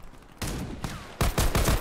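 Bursts of automatic gunfire from the online shooter game Warface come in two rapid fusillades. Each is a dense, loud rattle of closely spaced shots, with a short gap between them and no talking.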